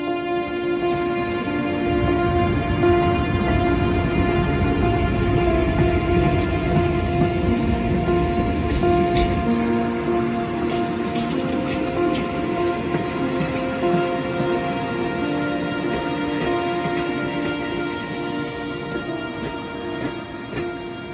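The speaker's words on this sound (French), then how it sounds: "La nouvelle loco bleue remplace la Pacifique." Blue A1A 6800 diesel locomotive hauling a passenger train in Normandy in 1964, a steady loud engine drone with sustained tonal hum and rolling rail noise, continuous and close, no speech.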